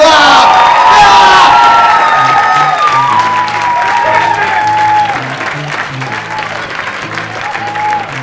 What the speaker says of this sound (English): Start clapping right now for Phillip Chang, everybody.